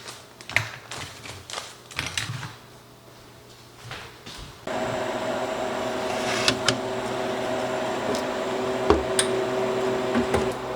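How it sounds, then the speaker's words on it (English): A freeze dryer loaded with strawberries starts up after a few scattered taps and clicks, settling into a steady, moderate machine hum with a faint tonal whine and occasional clicks. "They are now in the freeze dryer."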